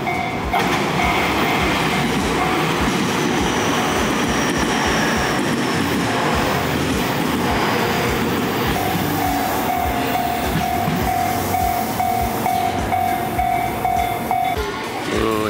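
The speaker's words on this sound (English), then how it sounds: "let's get on the train" A passenger train in Japan runs on its rails with a loud, steady rumble and rattle from inside the car, while a thin metallic wheel squeal rises and holds near the end.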